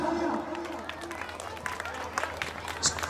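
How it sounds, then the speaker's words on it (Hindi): A crowd at an outdoor community welcome ceremony gives scattered applause, a moderate, steady patter of clapping mixed with crowd chatter and a voice speaking over it. "जोरदार तालियां"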